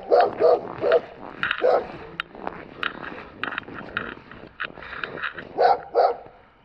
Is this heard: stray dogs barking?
yes